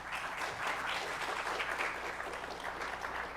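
A conference audience applauds to welcome the panelists, a steady, moderately distant wash of many hands clapping that lasts a few seconds with no talk over it.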